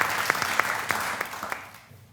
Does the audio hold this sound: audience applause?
yes